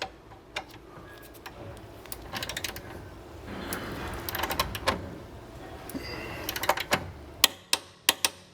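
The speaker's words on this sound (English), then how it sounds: "Now we're going to torque this down to 100 Newton meters." A ratcheting wrench tightens a rear control arm bolt on a BMW E90, clicking in quick bursts of metallic ticks that end in a few sharp, louder clicks as torque is reached.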